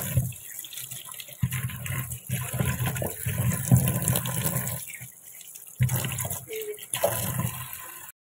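Water runs steadily from a household tap while vegetables are washed under it, a close, continuous splashing rush with a few brief breaks and surges, and no talk.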